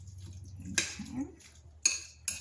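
A spoon stirs vegetables into lentils in a bowl, giving a few soft scraping movements and three sharp clinks of utensil against the dish, quiet and close.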